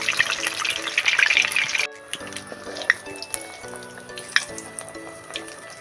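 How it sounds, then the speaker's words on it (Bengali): Cabbage fritters (bandhakopir pop) deep-frying in oil in a kadai, a loud dense sizzle at first that drops abruptly, then quieter bubbling frying with scattered clinks and splashes. "এইভাবে আমি কড়াতে দিয়ে দেব সুন্দর করে আমি এটা ভেজে নিচ্ছি"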